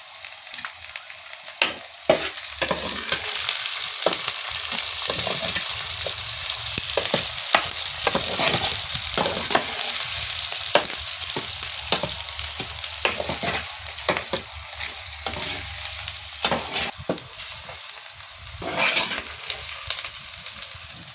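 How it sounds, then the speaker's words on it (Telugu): Green chilies and onion pieces sizzling loudly in hot oil, with steady frying hiss and repeated scraping stirs in the pan throughout, close and continuous without talk. "ఇప్పుడు మిర్చి, నూనె, ఉల్లిగడ్డ వక్కలు అయితే మంచిగా వేగినాయి నూనెలో."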